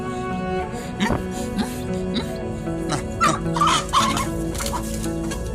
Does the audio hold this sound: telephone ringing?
no